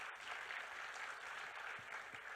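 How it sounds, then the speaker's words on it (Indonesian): Soft, distant applause from an audience at a school presentation final, an even patter of clapping lasting a couple of seconds with no voices on top. "Kita tepuk tangan dulu dong kepada mereka."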